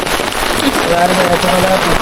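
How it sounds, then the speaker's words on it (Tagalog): Heavy rain pelts down on the summit of Mt. Kabunian, a dense, loud hiss of drops hitting surfaces close by, with people talking over the downpour throughout. "Ang lakas ng ulan."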